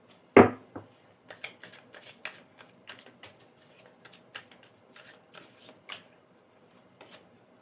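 Tarot cards shuffled by hand in a quiet room: one sharp snap up front, then a rapid run of light, close flicks and riffles that thin out and fade over about seven seconds.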